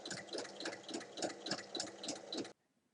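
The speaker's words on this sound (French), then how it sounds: "Et on vient faire une surpiqûre de ce côté-ci de la fermeture." A sewing machine runs steadily, topstitching along one side of a zipper on a handmade bag, its rapid needle rhythm pulsing evenly for about two and a half seconds before stopping abruptly into near silence.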